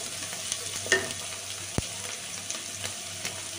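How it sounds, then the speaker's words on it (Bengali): Small pieces of capsicum fry lightly in a pan for a vegetarian dalia pulao, giving a soft, steady close sizzle with a few spatula taps and scrapes, with no talk. "তো ক্যাপসিকামটাও একটু ভেজে নিচ্ছি। হালকা ভেজে নিচ্ছি,"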